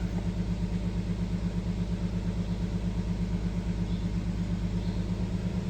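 A Nissan Xterra engine idles with cylinder 1 disabled and a misfire, giving a steady, close, low rumble with an even pulsing beat and no talking.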